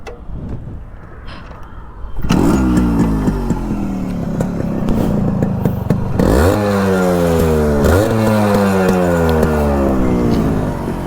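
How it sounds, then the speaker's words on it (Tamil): A 20-year-old Yamaha RX100 two-stroke motorcycle starts after a short quiet spell, then its engine and exhaust note rise into loud, close, repeated revving that climbs and falls several times. "இருங்க ஒரே நிமிஷம் வண்டி ஸ்டார்ட் பண்ணிக்கிறேன்."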